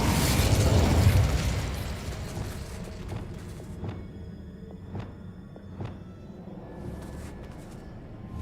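A Bombarda spell explosion in the Hogwarts Legacy video game, a loud booming blast that rumbles and decays, followed by a series of sharp clattering pops and debris knocks.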